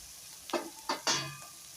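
Finely chopped cowpeas roast in a pan, a faint frying hiss broken by three quick stirring scrapes, with no talk.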